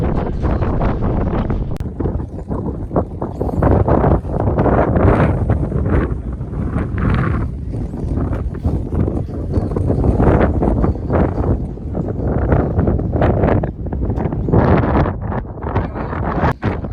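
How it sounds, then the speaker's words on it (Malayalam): Strong wind at the LOC viewpoint in Hunderman, Kargil, buffets the microphone in loud, rumbling gusts that roar continuously with no break. "കാറ്റ്"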